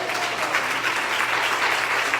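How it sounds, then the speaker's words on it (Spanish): A church congregation applauds steadily, a dense continuous wash of many hands clapping at moderate loudness with no speech over it. "Más fuerte esos aplausos"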